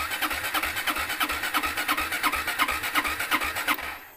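A Sym VF3i motorcycle engine with a weak four-year-old battery cranks rapidly and rhythmically during a jump start, a steady rasping churn that never catches and then cuts off abruptly near the end.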